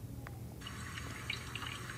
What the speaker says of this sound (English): Just wash that cup.